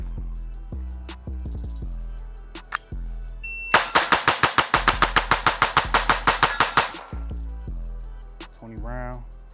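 Handgun fire at a shooting range sounds as a fast string of about fifteen sharp, close shots in a quick, even rhythm, with a few scattered single shots and range noise before and after.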